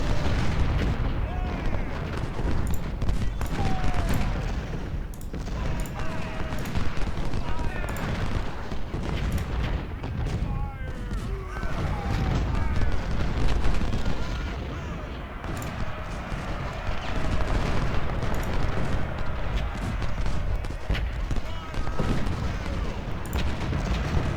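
Dense, continuous rumble of concentrated artillery battery fire from a Civil War battlefield in Ultimate General: Civil War, with overlapping booms and crackling over a steady low roar and a voice talking over it.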